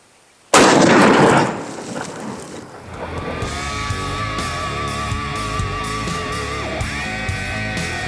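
.50 BMG rifle fired with AMAX ammunition into a 4-inch stack of porcelain and paper target outdoors: one sudden, very loud blast with a long booming decay, followed by steady wind noise and a faint tonal hum.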